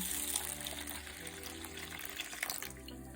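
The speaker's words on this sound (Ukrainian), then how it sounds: "100 грамів сухої сочевиці заливаю холодною водою." Cold water is poured steadily into a bowl of 100 grams of dry lentils, a close, continuous splashing gush with no talking.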